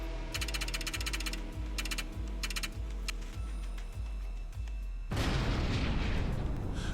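Heavy booming blasts from bombs hitting a warehouse, a regular run of deep thuds followed by a loud, dense roar of an explosion that fills the end.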